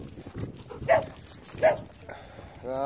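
Two short dog barks ring out a moment apart, fairly distant, on a beach in Wales, over a low background of wind and outdoor rumble.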